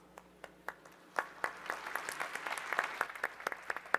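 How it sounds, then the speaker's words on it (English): Audience applause at a conference session, a scattered then building burst of hand clapping from a seated crowd, moderately loud and continuous, with no speech over it. "please welcome him with a big round of applause."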